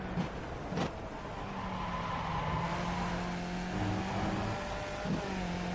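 Skip Barber race car engine at Donington in iRacing: a steady, nasal engine drone whose pitch rises and dips with the revs, plus a couple of brief clicks, and no talking.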